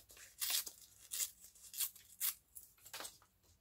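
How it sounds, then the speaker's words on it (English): Paper ripped by hand for an envelope craft, about six short sharp tearing bursts in quick succession, close and quiet, with no talking. "Just ripping this."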